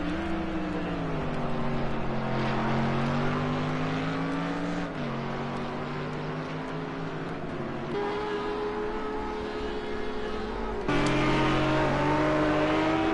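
Mercedes SLS and other GT race cars in a British GT race at Donington Park GP roar continuously, engines shifting pitch through gear changes, with a loud, sustained pass that swells near the end and no talk over it.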